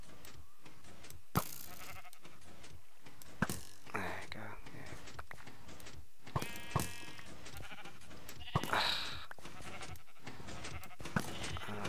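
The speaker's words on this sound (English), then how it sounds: "what is this sheep doing there" Sheep in the Minecraft video game bleat briefly amid scattered game clicks and mechanism noises, with soft voices murmuring throughout.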